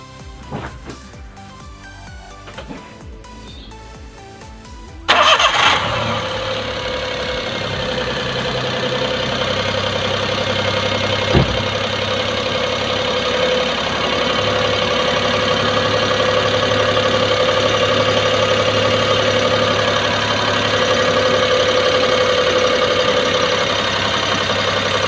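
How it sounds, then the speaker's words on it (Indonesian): A car engine cranks and catches with a sudden start, then settles into a steady, even idle that continues for about twenty seconds in a quiet setting. "Saya akan starter mobilnya."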